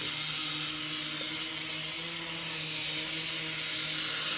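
A quadcopter drone hovering in place, its rotors giving a steady, even buzzing whine with constant tonal hum, close and unbroken throughout with no voices.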